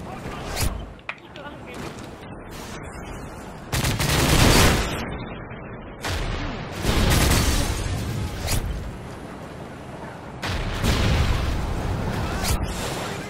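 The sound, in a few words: RPG rocket fire in video game Modern Warfare 3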